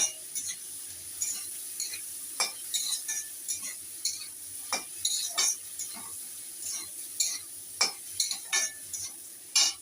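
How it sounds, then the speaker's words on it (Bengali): Onions with a little salt frying in a pan give a faint, soft sizzle, broken by repeated sharp scrapes and clinks as a utensil stirs them against the metal at an irregular pace. "এবার আমি একটু নাড়াচাড়া করছি।"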